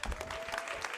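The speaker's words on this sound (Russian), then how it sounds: "Аплодисменты, только аплодисменты." Applause from the crowd at a summer speedrun charity marathon showcase, dense and steady through the whole second, with a faint sustained tone running beneath it.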